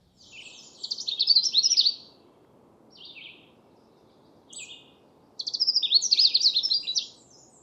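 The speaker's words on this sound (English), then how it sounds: "Boy, is this Canada warbler vocal today." Repeated bright, jumbled song phrases from a Canada warbler ring out, a long burst at the start and another near the end with short fragments between, moderately close and alone over faint background hiss.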